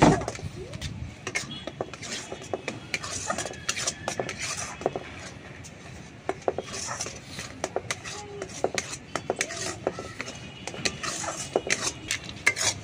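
Powdered milk being stirred little by little into a sweet carrot and milk mixture, a spoon scraping and clinking steadily against the pan close by, with soft background noise and no speech.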